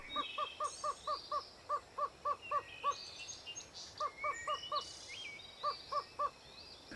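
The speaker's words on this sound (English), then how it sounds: "That somewhat funny but alert appearance is the burrowing owl, a small minor bird." A small burrowing owl in the desert gives short, repeated calls in quick bursts of four to six, separated by brief pauses, clear over a soft background hiss.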